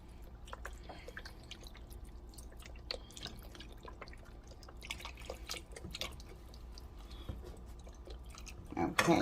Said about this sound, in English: So I'm pouring my beef broth in.